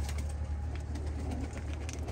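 Low, throaty cooing from long-faced Boğma Hünkarı high-flying pigeons, a close, continuous rolling coo with soft flutters and faint background noise.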